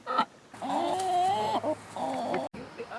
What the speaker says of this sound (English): Okay, chickens are all here now.